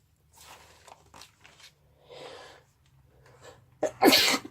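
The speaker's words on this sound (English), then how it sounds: "Oh, excuse me. I got to sneeze. Oh, I did sneeze." A single loud, sharp sneeze bursts out near the end, preceded by a few quiet rustles and breathy sounds.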